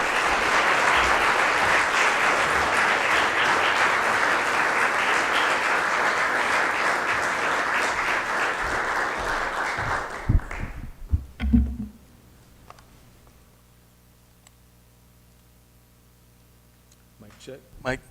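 An audience at a liberal arts conversation event applauds to welcome speaker Timothy Eatman: loud, sustained clapping fills the room for about ten seconds, then stops abruptly, followed by a few microphone handling thumps and quiet room tone.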